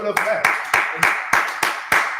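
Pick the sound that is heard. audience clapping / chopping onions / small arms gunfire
audience clapping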